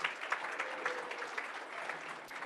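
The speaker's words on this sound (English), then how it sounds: "Give everyone a round of applause." An audience at an awards celebration claps in sustained, dense applause, moderately distant and even, lasting the whole short stretch.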